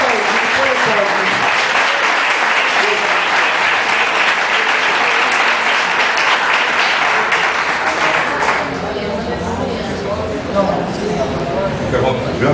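A church congregation at an evangelical worship service claps together in sustained, loud applause that holds steady and then eases slightly toward the end.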